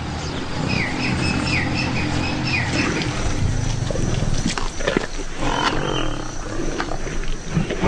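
Lions of a pride feeding after a buffalo hunt in the wild, with low growls and rumbles loud and close, and birds chirping in the background throughout.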